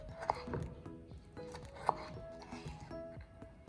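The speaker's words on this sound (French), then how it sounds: "on va venir couper notre belle tomate cœur de bœuf en tout petits cubes" A knife dicing a beefsteak tomato into small cubes on a board, a quiet close series of soft irregular chops and taps.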